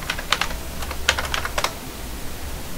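Keys clack on a computer keyboard in quick irregular bursts, close and moderately loud over a low hum, with no voices.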